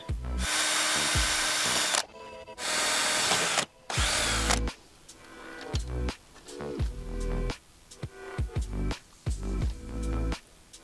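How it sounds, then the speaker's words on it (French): A power drill bores holes to mount an ATOTO A6PL car stereo in three loud, sustained whirring bursts, then gives several short, sharp buzzes mixed with clicks and handling knocks. "je vais me faire les repères et je vais percer ça"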